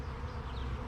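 Honey bees hum in a close, continuous drone around an open hive during a Varroa mite check, a steady low buzz with no voices.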